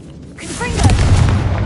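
A Confringo fire spell bursts in Hogwarts Legacy, building into a loud, rumbling low boom that swells after a short quiet start and rolls on without a break.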